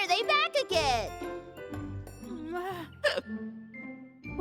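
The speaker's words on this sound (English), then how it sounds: "Maybe your hiccups will just go away on their own." A cartoon character hiccups several times in a high, squeaky voice, mixed in with bright childlike cartoon speech and a tinkling jingle, all close and loud.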